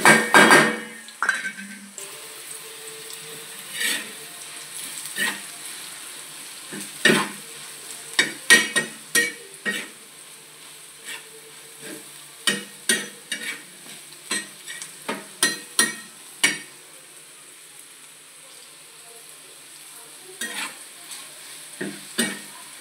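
Bitter gourd fries with red chilli powder, salt, cumin powder and coriander powder, a faint low sizzle under scattered sharp scrapes and clacks of a spatula stirring the pan, loud in bursts and then quieter.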